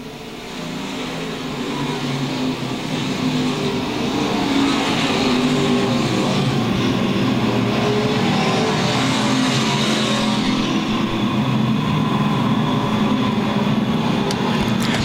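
Modified and stock race cars at a USRA nationals main event at Lakeside Speedway: a loud, continuous roar of engines that swells over the first few seconds and then holds steady as the field passes, with no speech.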